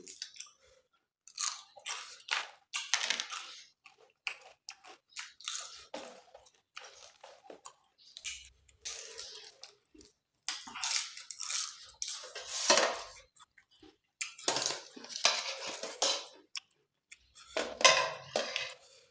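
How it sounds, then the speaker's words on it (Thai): Crunchy chewing of spicy Thai golden apple snail salad, close and loud, in bursts of crisp bites and mastication with pauses between, joined by occasional clinks of cutlery against a dish. "ยำหัวหอยเชอรี่กรุบขัด"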